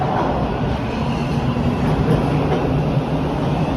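Toronto subway train at a Line 2 Danforth station, a loud, steady low rumble of the train moving through the platform, continuous and close, with no voices.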